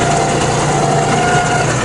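A John Deere 5075e tractor engine runs steadily nearby, a loud, even diesel drone with a constant low hum and no change in pitch, and nobody speaks over it.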